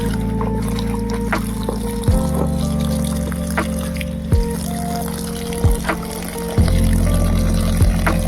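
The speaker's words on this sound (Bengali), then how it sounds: "বাইরের ট্যাপে কলে চলে আসি শাক ধুতে" Water from an outdoor tap pouring and splashing while pumpkin greens are rinsed, a loud continuous gush close by with a few brief knocks and handling sounds, no voices.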